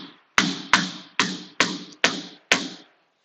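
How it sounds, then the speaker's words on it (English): A hammer strikes nails while a new building space is being put up. Six sharp, loud knocks come at a steady, unhurried pace, each one ringing briefly before the next, with no talking. "Yes, the knocking of the nails."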